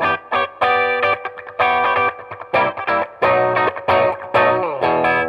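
Electric guitar with a single-coil pickup played through effects with distortion, chorus and echo, sounding loud and close in a series of choppy strummed chords and riffs with short gaps.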